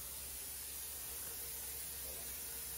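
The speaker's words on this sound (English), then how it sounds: "use a canola oil spray" Canola oil cooking spray hisses steadily from an aerosol can for nearly three seconds, a soft, even, continuous spray with no talk over it, used to coat a pan for cinnamon raisin bread.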